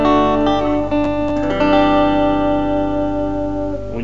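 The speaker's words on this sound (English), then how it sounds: "This is based on the Roland Jazz Chorus, and it's got a really nice clean channel, super punchy and real nice" Electric guitar played through a Roland Cube 20X amp on its clean channel, loud sustained chiming chords ringing close with a few re-struck notes, no talk.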